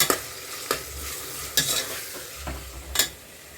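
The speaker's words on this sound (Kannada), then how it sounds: "ಟೊಮೆಟೊ ಸಾಫ್ಟ್ ಆಗೋವರೆಗೂ ಫ್ರೈ ಮಾಡ್ಕೋಬೇಕು" Tomatoes frying in a pan for mutton biryani, giving a steady close sizzle broken by several sharp scraping stirs of a spoon against the pan, with no talking.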